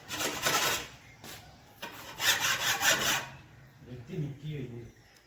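Metal rasp filing a fodder cutter blade on a dairy farm, giving several bursts of harsh rhythmic scraping strokes at close range with short pauses between them, followed by quieter rubbing.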